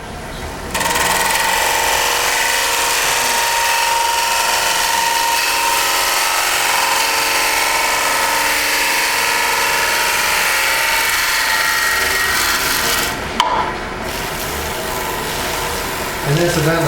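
A wood lathe runs steadily while turning a two-piece hollow form at a woodturning club demonstration, a loud continuous whir with a brief dip near the end.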